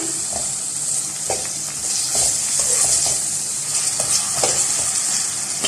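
Loud, continuous sizzling and hissing as tomatoes are added to a hot pan of frying mutton mince, with scattered stirring scrapes and clatters.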